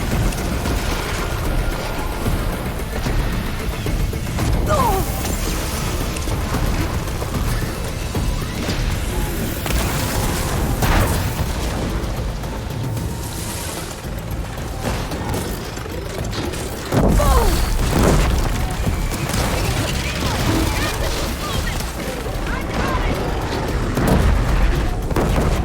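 Gunfire and booms from the video game Horizon Forbidden West crackle continuously over a busy mechanical din, with scattered loud shots and impacts throughout.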